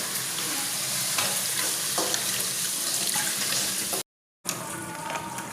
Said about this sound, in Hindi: मैंने इसके अंदर पानी डाल दिया पतीली में